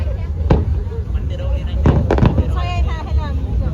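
Fireworks burst over Ha Long Bay with a few sharp, loud cracks and booms against a steady rumbling background, heard close by as people talk nearby.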